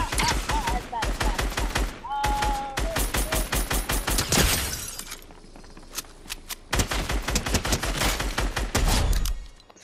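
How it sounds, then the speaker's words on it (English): SCAR rifle fire in a video game rattles out in loud, rapid bursts that pause briefly near the middle and then resume with a few faint voices underneath. "I hit all my shots with the scar."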